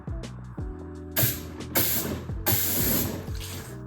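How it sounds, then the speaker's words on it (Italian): Short bursts of compressed air sprayed into the windshield washer pump nozzle of a BMW E87, loud hissing blasts repeating in quick succession with low clunks between them, close up. "se noi andiamo a spruzzare l'aria dentro il beccuccio della pompa, vedrete che uscirà l'acqua da qua"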